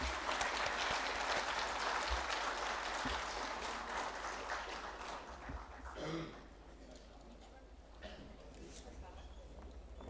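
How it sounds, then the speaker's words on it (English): Audience applause at a sustainable development summit welcoming a speaker to the stage, steady full-room clapping that fades after about six seconds into a quieter murmur with a few scattered claps. "Please welcome Dr. Vibha Dhawan with a round of applause."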